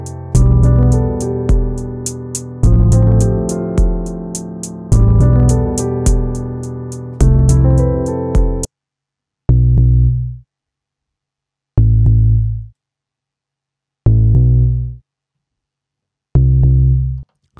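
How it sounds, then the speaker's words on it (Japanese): A Basic preset on the Meld synth in Ableton Live 12 plays a deep, sub-bass-like tone. It starts as sustained, layered notes and then drops to short, separate low hits with silence between them, loud and alone. "ちょっとサブベースっぽい感じのね音色になりましたね。"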